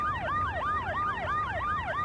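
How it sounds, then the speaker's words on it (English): Police sirens in the video game Max Payne wail in a steady rising-and-falling pattern, about five even sweeps, loud and continuous with no voices. "The bad guys are attracted to the sirens."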